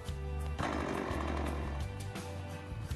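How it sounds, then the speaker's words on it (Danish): A Stihl chainsaw is pull-started and roars into a loud, steady running idle, the two-stroke engine buzzing continuously and close with slight revving dips. "Træk i snoren til saven kører."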